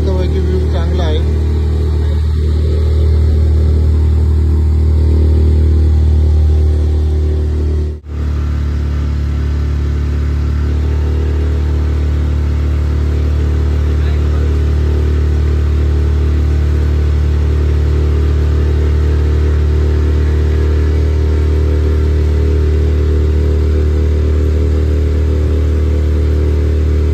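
A motorboat engine drones steadily and close by during a boat ride near Poovar in Kerala, a constant low hum that holds unchanged for the full stretch with no other clear sounds.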